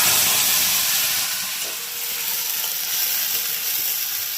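Bay leaf, whole cumin and tomato sauce sizzle steadily in a hot pan of Bengali kofta gravy, a close, continuous bright hiss with faint crackle and no voices.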